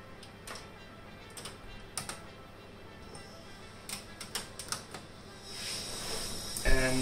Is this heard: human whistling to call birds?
no